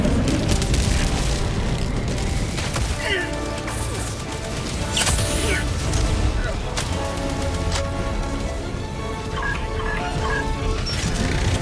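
Enemy artillery shells burst around the player in the Helldivers 2 video game, a steady barrage of booms and crashes with dense battle noise throughout, voices heard in the mix.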